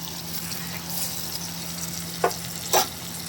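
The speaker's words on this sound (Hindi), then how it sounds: "देखिए दाल में डाल दिया है बघार में ना सब चीज़ें" Hot tempering spices (baghar) poured into cooked dal sizzle and fry with a steady hiss, broken by two short louder splashes of liquid near the end, close up, with no talk.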